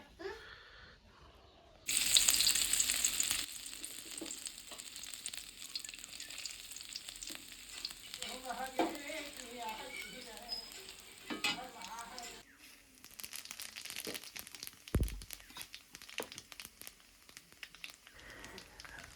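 Shredded cabbage cooks in a pan with steady, soft sizzling and occasional stirring scrapes, the frying noise continuing quietly at close range for a long stretch.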